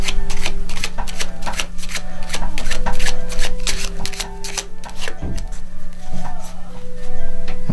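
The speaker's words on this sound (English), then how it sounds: "I'm also going to give the deck a shuffle." A deck of playing cards shuffled by hand in quick riffles and taps, close and crisp, set against a steady background tone.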